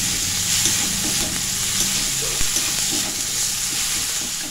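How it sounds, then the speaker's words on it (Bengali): Spices with turmeric powder stir-frying in a pan for a pointed gourd chop, giving a steady, close sizzle with soft spatula scrapes throughout and no talking. "এখন ভালো করে নেড়ে চেড়ে মশলাটা আমি ভেজে নিচ্ছি।"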